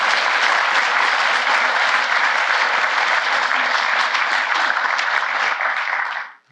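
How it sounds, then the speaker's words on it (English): An audience applauds after a talk on a French teenager in the Resistance: a dense, steady clapping that holds for about six seconds, then stops abruptly. "Round of applause, please."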